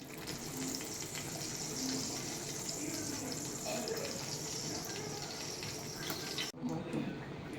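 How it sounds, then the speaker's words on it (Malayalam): A tap runs steadily into a sink as cooking pots are washed, with brief clinks; the flow cuts off near the end. "ഈ സമയത്ത് ഞാൻ പാത്രമൊക്കെ കഴുകി അമ്മനെ സഹായിക്കുന്നുണ്ടായിരുന്നു"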